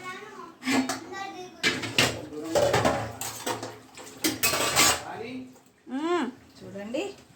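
Potato pieces tossed one by one into a pot of water by a child while making french fries, giving scattered clatters and soft plops against the metal pot, with people talking throughout.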